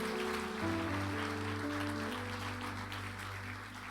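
Congregation applauding during a Spanish-language church sermon, a steady wash of clapping under sustained organ or keyboard chords.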